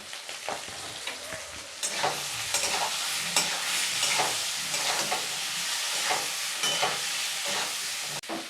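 Boiled potatoes fry with salt and turmeric for a peas and potato dish, a steady close sizzle broken by repeated scraping stirs of a spatula in the pan.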